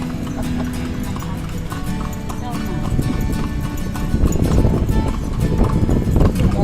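Horse hooves clip-clop along a street in Manila, a steady rhythmic clatter that grows louder over several seconds, mixed with traffic noise and people talking.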